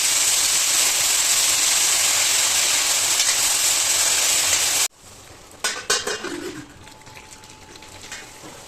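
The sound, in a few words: spring onions frying in hot oil with garam masala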